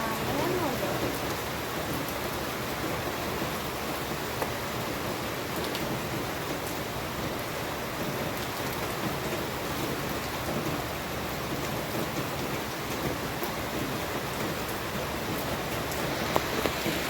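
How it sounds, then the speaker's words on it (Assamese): Heavy rain pours down steadily and loudly throughout, a dense continuous hiss with no pauses or voices. "বৰষুণ বাপৰে বাপ, এৰা নামে নলয়"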